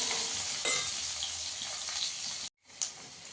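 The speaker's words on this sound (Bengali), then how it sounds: "দিয়ে আলুটাকে একটু লাল করে ভেজে নেবো।" Potato pieces frying in a pan with salt and turmeric, a loud continuous close sizzle with a stirring scrape, then a brief cut to silence before the sizzle resumes.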